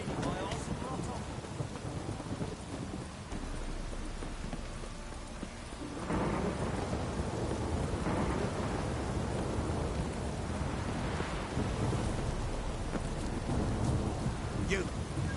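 Steady rain pours with deep, rolling thunder in The Witcher 3, a dense wash of rainfall holding loud throughout while the rumble swells heavier partway through.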